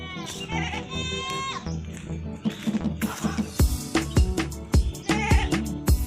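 A young goat kid bleats in repeated high, wavering calls close by, with scuffling movement between cries and someone talking over parts of it.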